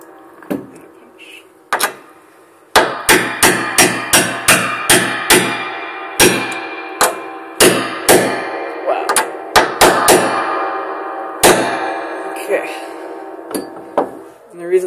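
A hammer drives a punch while a piano is strung with bridge agraffes, giving a run of loud, sharp metallic strikes in irregular bursts, each ringing briefly with the resonance of the strings, with a few quieter taps between.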